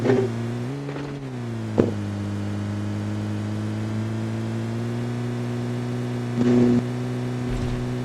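A car engine in the video game PUBG Mobile hums steadily with low harmonic drones, rising briefly in pitch near the start and swelling louder around two thirds through, with no talk over it.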